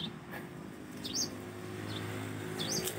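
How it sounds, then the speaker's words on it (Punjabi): Sparrows chirp outdoors on a spring day on a farm, with a few brief, high, faint calls scattered over a low steady background hum; no one speaks. "ਚਿੜੀਆਂ ਬੋਲ ਰਹੀਆਂ ਨੇ"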